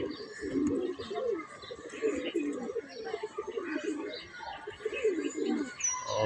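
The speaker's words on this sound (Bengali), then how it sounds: "মাদি কবুতরগুলো গোসল করতেছে।" Female loft pigeons, let out to bathe, coo in repeated low rolling phrases, close and steady. Soft chirps and faint voices can be heard behind them.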